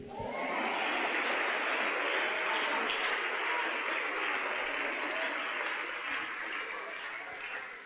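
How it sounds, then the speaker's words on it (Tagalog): Church congregation applauding during a pastor's sermon, a dense, steady wash of many hands clapping that swells quickly and holds loud for several seconds before easing slightly toward the end. "Kayong ngayon lang pumalakpak, huli na kayo."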